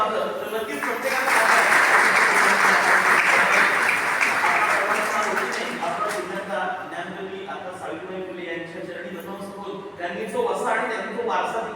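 Audience applause at a women's community association gathering, swelling into a strong, sustained burst of clapping that gradually thins out while voices carry over the tail end.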